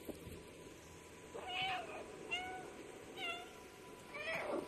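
Cat meows in the video game Stray, four separate rising-and-falling calls spaced about a second apart over a steady background hum, clear and fairly close.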